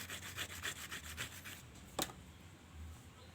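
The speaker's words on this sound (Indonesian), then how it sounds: "Kita amplas dulu seperti ini ya, kita gesek-gesek biar halus." Sandpaper rubbed back and forth on a Jupiter MX motorcycle engine part during valve-seal assembly, a quiet, close, rhythmic scraping of about ten quick strokes followed by a single sharp knock.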